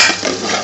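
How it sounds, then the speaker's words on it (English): A frying pan of simmering aubergine bortha being shaken on the stove, giving a continuous clattering rattle of metal and food close by, with no voices. "Shake the frying pan in there like this"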